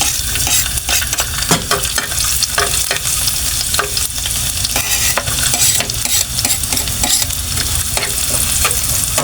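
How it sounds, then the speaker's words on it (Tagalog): Sliced bitter gourd (ampalaya) sautés in a hot pan with a loud, steady sizzle, while a utensil stirs and scrapes with repeated clicks close up, and no one speaks. "igisa na natin yung ating gulay"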